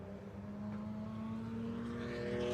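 Race cars at the start of a race at the Red Bull Ring, engines droning steadily and building in loudness as the pack accelerates away, a dense continuous roar with no talk.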